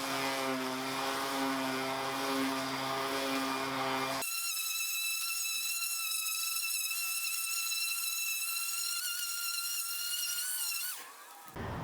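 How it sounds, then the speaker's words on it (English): A battery-powered Ryobi sander smooths the sharp edges of a DIY solar panel roof rack for a camper, its steady high-pitched motor whine starting abruptly after a stretch of other noise and running loud and close before cutting off. "That was taking too long, so I pulled out the sander."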